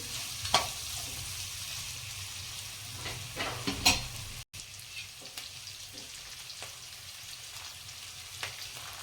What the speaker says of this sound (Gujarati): ડુંગળી આપણે અડધી મીઠ સુધી આ રીતે સાંતળશું